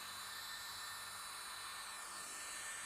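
A Roban EC130 RC helicopter hovers with a steady, faint, high-pitched whirring hiss from its rotors and motor that holds unchanged throughout, with no talking.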